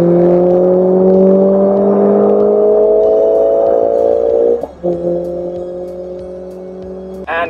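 Mercedes-AMG A45 S in race mode at high speed, a loud steady engine tone with rising harmonic pitch, a short break as a gear changes, then a renewed pull, heard from inside the car.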